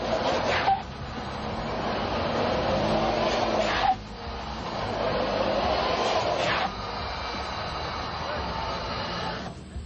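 A four-wheel drive Dodge Dakota pickup runs on a roller grade test rig, giving a steady, loud mechanical drone with whine that shifts abruptly in tone and level a few times.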